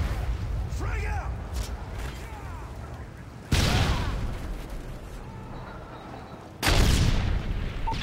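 Two heavy blasts erupt from a frag grenade and gunfire in the video game Modern Warfare 3, each a sudden loud boom that tails off into rumble, with game voices and chirps in between.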